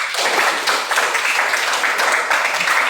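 Classroom applause from students, a steady dense patter of many hands clapping together at close range for about three seconds with no talking over it.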